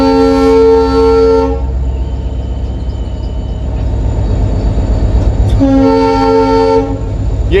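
A moving train sounds its horn in two loud sustained blasts, one at the start and one near the end, over a steady rumble of rolling wheels and rail noise, with no talk.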